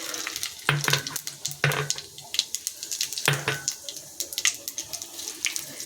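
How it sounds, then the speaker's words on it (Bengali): Cumin and bay leaves sizzle in hot oil in a pan, a crackling fry broken by sharp spattering bursts and scraping stirs heard close up. "তেলটা গরম হয়ে গেছে, জিরে আর তেজপাতাটা দিয়ে দিলাম"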